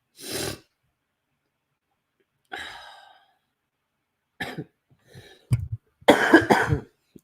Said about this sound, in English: I can't stop with this ridiculous cough